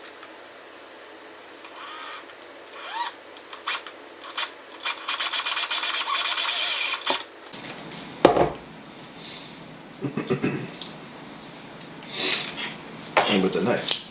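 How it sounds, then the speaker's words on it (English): A power drill bores into wood for a rocket-powered balloon car, a harsh grinding burst lasting several seconds, followed by quieter scraping and handling noises between spoken remarks. "First, the drill."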